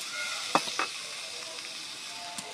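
Taki fish added to a pan of fried mustard masala gives a soft, steady sizzle and hiss, with a couple of brief louder crackles near the start.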